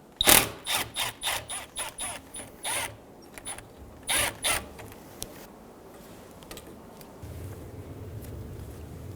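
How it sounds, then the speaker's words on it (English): A nut is spun off a stud clamped in a vise on a 2007-2011 Toyota Camry 2.4L engine job, a quick run of about a dozen close ratcheting clicks in bursts, then quiet rustling handling noise. "One of the studs came out with the nuts, so we're going to remove the nut from the stud."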